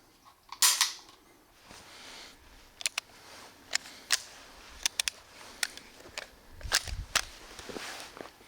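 A Dan Wesson Vigil Government 1911 pistol being fired at a shooting range, with about a dozen sharp, fairly faint cracks spaced irregularly, some in quick pairs.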